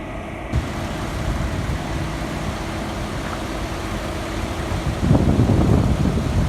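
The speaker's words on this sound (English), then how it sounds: "See, there's the truck revving up now." A heavy cement truck engine rumbles low and steady in a construction yard, then revs up louder near the end, heard from nearby.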